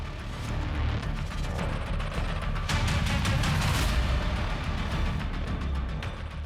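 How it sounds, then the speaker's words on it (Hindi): Gunfire in a crime drama scene with police and a family held hostage, a dense burst of rapid, cracking shots mixed with mechanical rattling, loud and sustained for several seconds. "जब से बोला है पटाखे चलेंगे तब से गोलियां चल रही हैं"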